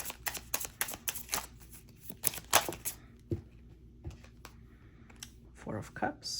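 Tarot cards are shuffled in quick, crisp riffling bursts and light slaps close to the microphone, with brief pauses between handfuls and a quiet voice in the background.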